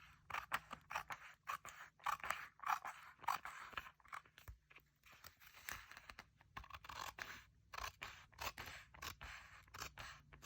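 Scissors snip and slice through paper for a collage, a close, quiet series of crisp cuts and rustles in irregular bursts, with short pauses between strokes.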